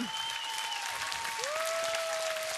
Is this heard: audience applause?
yes